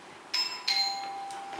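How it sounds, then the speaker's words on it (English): A doorbell rings during a stage performance of the musical HONK! at the Kelley Theater. It gives two bright chime strikes a third of a second apart, and the tones ring on clearly with no talking. "she wouldn't ring her own doorbell"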